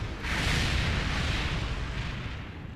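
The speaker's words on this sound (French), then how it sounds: "Cependant, Warp se coince et semble périr dans l'explosion." A huge explosion from the animated film Lightyear: a loud, dense roar bursts in and rumbles on steadily for about three seconds, close and full, with no voices.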